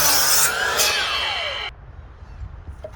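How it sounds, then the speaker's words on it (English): A miter saw cuts wood while making a DIY pull-up bar, a loud bright whining buzz from the blade that falls in pitch as it slices, then stops sharply, leaving faint handling clatter. "I'm going to perform the same cut on all four before I move the miter to its next position"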